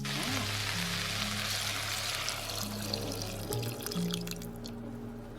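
Hot water is poured onto a solid block of broth, a continuous close splashing pour with light dripping that fades toward the end, while a low hum runs underneath.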